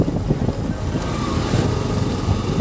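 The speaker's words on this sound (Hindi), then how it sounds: "मज़ा आ जाता है इस रोड पर बाइक चला के भाई" Motorcycle ridden along a road, its engine a steady, continuous rumble with wind noise throughout, close and fairly loud, with no voices.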